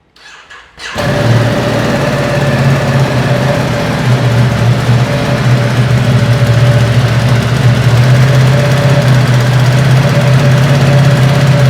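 A Ducati superbike engine fires up after a brief crank and settles into a steady, loud, close idle with a low throbbing rumble that runs unbroken to the end, with no talking.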